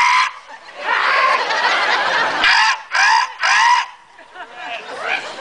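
A man on stage imitates a seagull with loud, harsh honking squawks in several bursts, separated by short pauses and followed by softer trailing cries.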